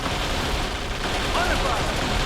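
Constant gunfire from an Xbox video game, a dense unbroken rattle of shots and explosions at steady loudness with no pauses.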